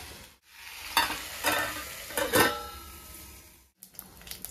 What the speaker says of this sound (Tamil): ஸோ பருப்பு குழம்பு இப்போ தாளித்து ஊற்ற போகிறோம்